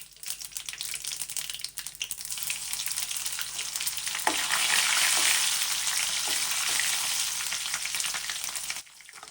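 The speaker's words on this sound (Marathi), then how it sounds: "आता तेल गरम झालेलं आहे आणि मी त्याच्यामध्ये जिरे, मोहरी, लसूण, कढीपत्ता टाकतीये." Cumin, mustard seeds, garlic and curry leaves sizzle in hot oil for a jackfruit bhaji, a steady crackling fry with sharp pops and spatters, close and continuous with no voices.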